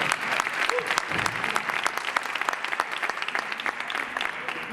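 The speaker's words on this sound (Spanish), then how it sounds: "Un aplauso para animar el ambiente" Dense applause from a conference audience at the start of a morning panel session, steady and sustained for several seconds at moderate distance, a dense wash of many hands with faint voices mixed in.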